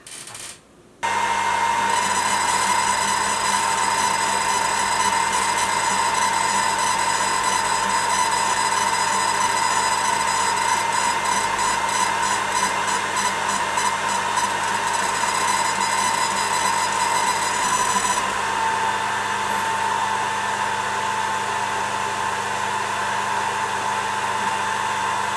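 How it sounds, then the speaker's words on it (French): A 20W laser engraver engraves and cuts 3 mm MDF with a steady, loud whine and an air-assist hiss that runs almost the whole time, with a high pulsing texture partway through, then a slightly quieter tail. "Un petit test de gravure et découpe sur du médium"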